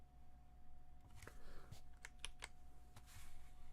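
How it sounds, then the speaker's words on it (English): Computer keyboard typing close to microphones, a string of irregular sharp clicks and key taps, faint overall with a low hum underneath and no talking. "The keyboard is so loud right next to the microphones."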